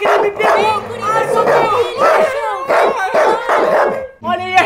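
A dog barks and growls close by in a short comedy parody scene, loud and insistent, with people shouting and talking over it throughout.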